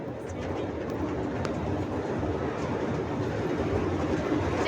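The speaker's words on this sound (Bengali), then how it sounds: "ট্রেন ছেড়ে দিয়েছে" A small eco park ride train pulls away, its low rumble and rolling clatter building steadily over several seconds, with faint bird calls above; no speech.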